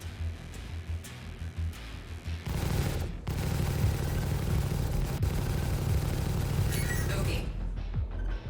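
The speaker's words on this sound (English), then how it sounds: "Let's try missiles again. Couple of missiles," Spaceship missiles launching in the video game Star Citizen, sharp bursts early, then a dense sustained roaring rumble with a heavy low-end thrust and mechanical clanks, fading at the end, with a voice speaking over it.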